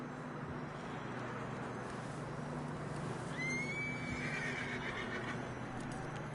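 A horse in the Red Dead Redemption 2 video game whinnies once partway through, a bright rising neigh over a steady low background hum with no talk.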